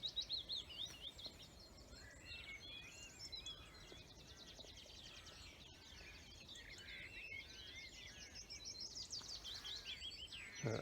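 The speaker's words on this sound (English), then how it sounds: "That's it, the willow warbler there." Willow warbler song in an April dawn chorus: faint, repeated high sweet phrases carried on and off over a steady backdrop of other distant birdsong, with no voices.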